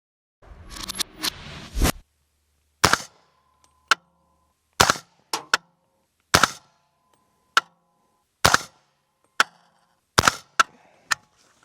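A suppressed Mini M4 rifle in 300 Blackout fitted with a TiTrex suppressor fires during an accuracy test at 25 and 67 yards: about a dozen sharp, clipped shots spaced roughly a second apart, each standing alone against near silence.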